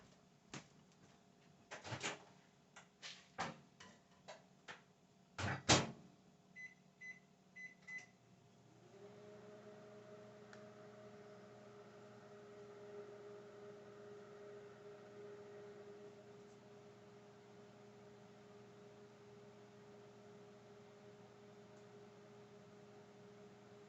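A microwave oven hums steadily at moderate level while melting chocolate fudge mixture, preceded by door clicks and beeping keypad presses, then a continuous drone for the rest of the cooking time.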